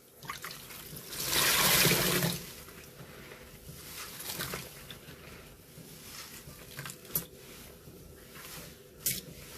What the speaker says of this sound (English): We are still in the sponge rinse because we had a million to do.